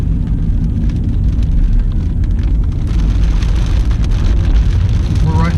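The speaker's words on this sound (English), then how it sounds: "We're right in the thick of the storm right now." Heavy storm rain drums on the body and glass of a Honda e, a dense, steady wash of close patter that never lets up, with faint voices at times.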